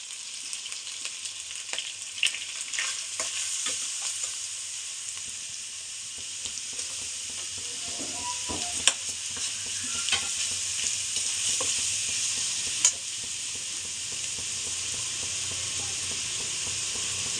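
Vegetable noodles with garlic and cabbage being stir-fried in a pan, a steady close sizzle with scattered scraping stirs and a few sharp clinks of the utensil against the pan throughout, no voices.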